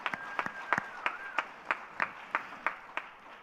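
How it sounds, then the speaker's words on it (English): An event audience claps in a slow, steady rhythm, roughly three sharp claps per second with soft crowd noise beneath. "A huge round of applause for everyone in the top 3"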